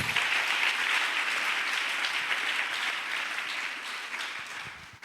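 A church congregation claps steadily in praise, a dense, sustained wash of applause that fills the room and slowly tapers toward the end.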